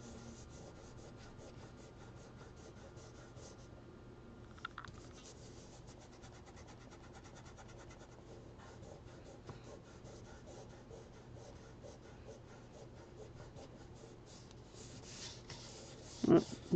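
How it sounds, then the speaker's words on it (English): Crayon is rubbed and blended across paper in soft, steady scratchy strokes that continue quietly and close up, with a brief louder scrape near the end. "just rub the yellow again. Just blend it"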